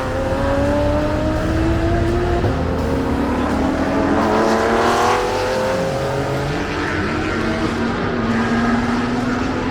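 A BMW E46 track car at wide open throttle on the VIR circuit, a loud sustained engine howl climbing in pitch through the gears, with a brief shift dip and steady road roar.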